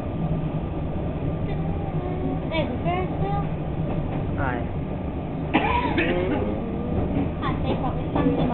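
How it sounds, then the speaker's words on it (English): Continuous low rumble of a train passing near the Royal Melbourne Showground with rattling and clattering, while voices talk over it. "There's a train."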